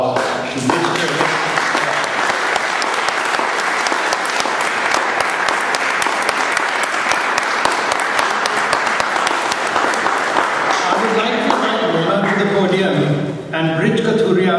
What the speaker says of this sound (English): So I want y'all all to give a big round of applause to Mr.